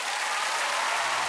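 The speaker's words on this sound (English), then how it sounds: "So please give a round of applause for the Royal Shakespeare Company's production of Matilda, the musical, featuring Grace Lee." Loud, dense applause from a television studio audience for the Royal Shakespeare Company's Matilda the Musical cast, a steady, unbroken roar of many hands clapping close by.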